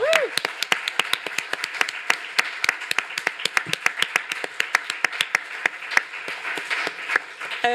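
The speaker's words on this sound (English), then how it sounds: "a very well-deserved round of applause for all this year's nominees" Sparse applause at a European Press Prize event honouring journalism nominees: a modest number of hands clapping in distinct, loosely timed claps, fairly close and clear, with a brief voice at the very start.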